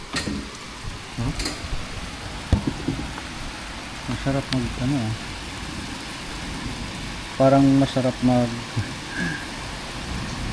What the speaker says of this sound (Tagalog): Lumakas yung ulan eh.